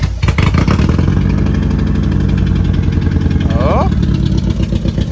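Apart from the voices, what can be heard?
Honda Accord straight-pipe engine idling with a misfire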